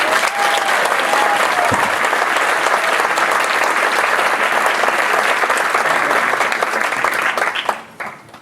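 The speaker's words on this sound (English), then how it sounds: "So one more round of applause for Nancy." A volunteer gala audience at a theater claps in sustained, dense applause, loud and even throughout, then tapers off quickly at the end.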